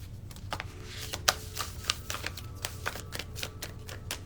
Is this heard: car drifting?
no